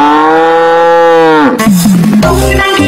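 A cow mooing sound effect gives one long, loud, sustained moo that holds steady and then breaks into rougher, wavering grunts at the end, close and alone.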